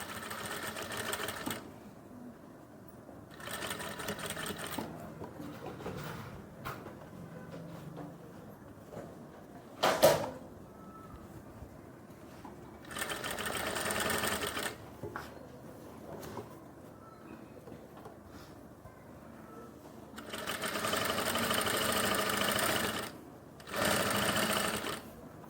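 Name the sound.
sewing machine stitching the pocket seam of women's pants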